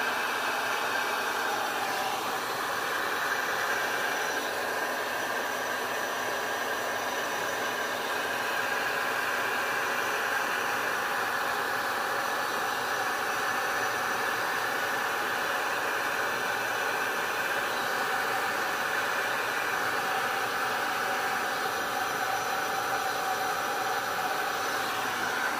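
Air blower pushing a steady, loud broadband hiss across freshly poured resin in a turtle-shaped mold, the airflow constant and unbroken throughout with no talking.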